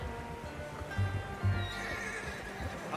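A horse in Red Dead Redemption 2 gives a single close, loud whinny over a steady in-game ambient bed, with a faint hoof clop.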